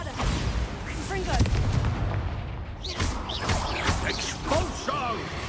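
Bombarda blasting spell in Hogwarts Legacy, heavy booming explosions and crashing impacts repeated through the scene, mixed with combat noise and shouted voices.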